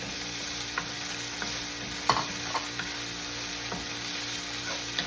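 Onion sautéing in a hot pan for salt and pepper shrimp, a steady sizzle with occasional sharp scrapes and taps of a utensil stirring, close by and without talk.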